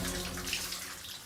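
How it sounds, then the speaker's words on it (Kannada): A shower running in a bathroom with nobody inside, heard as a steady broadband hiss of falling water that fills the whole short stretch at moderate level, with no voices. "ಇಲ್ಲಿ ಬಂದ್ರೆ ಶವರ್ ಆನ್ ಆಗಿದೆ,"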